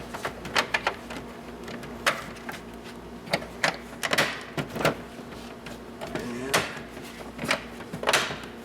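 Plastic latch clips snap onto Festool Systainer storage boxes in a series of sharp, close clicks and knocks at irregular intervals over a quiet background.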